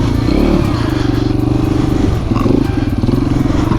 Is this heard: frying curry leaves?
no